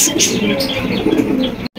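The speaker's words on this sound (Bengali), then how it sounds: "এখানে রয়েছে হোয়াইট কালারের লাক্ষা কবুতর" Lakha pigeons coo steadily through a busy background of chirps and chatter, a continuous close cooing that cuts off abruptly near the end.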